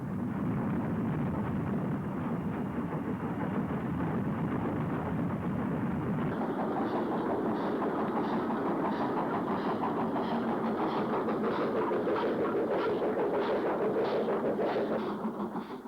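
A steam locomotive, number 92230, rumbles and labors steadily while hauling a train near Bromsgrove, and rhythmic chuffing beats and wheel clatter become prominent partway through.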